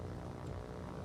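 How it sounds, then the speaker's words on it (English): An enemy fighter plane drones steadily as it attacks torpedo bombers in the naval video game War on the Sea, a faint, continuous propeller-engine hum with no other sounds. "this enemy fighter's going after my torpedo bombers"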